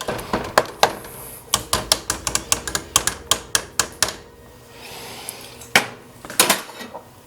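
A cutter mashing fruit, including blueberries, for mead: a fast series of sharp, clattering knocks in an irregular rhythm, close and loud, a short pause, then a few more hits.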